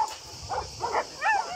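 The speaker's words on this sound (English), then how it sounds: "It's some shy dogs that" Shy dogs at an animal shelter give a few short yips and whimpering barks, close and fairly quiet, in a brief burst of three or four calls.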